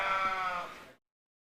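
A single White Dorper sheep at a livestock show gives one short, clear bleat, close by and fading out after about a second.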